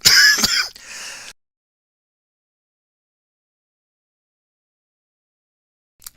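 A short burst of throat-clearing cough near the start, followed by a long silence and a tiny faint sound at the very end.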